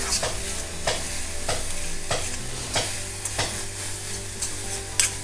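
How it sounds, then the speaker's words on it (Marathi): Chopped onions stir-fried in oil in a pan while salted, for a quick dried-fish chutney: a steady soft sizzle broken by regular scraping strokes of a spatula, close up, about one stroke every half second. "अजून दोन मिनटं आपण जरा परतून घेऊया"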